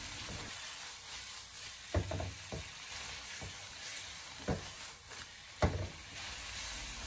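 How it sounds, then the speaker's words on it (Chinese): Carrots stir-fry in a wok with a low, steady sizzle, broken by several sharp spatula scrapes and tosses at irregular intervals, close and quiet, with no voices. "我们将胡萝卜继续的翻炒个2分钟左右"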